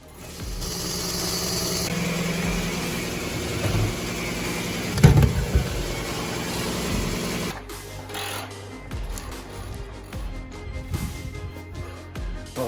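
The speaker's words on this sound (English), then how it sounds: "So out comes the grinder." An angle grinder running in a tight space inside a campervan while cutting for AC ducting, a steady loud whining drone for several seconds that stops abruptly, followed by quieter rattling and handling noise.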